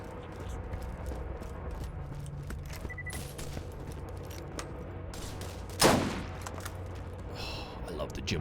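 Scattered gunshots from Borderlands 1, mostly soft and mid-distance, with one sharp, louder burst near the end over a steady backdrop of game sound.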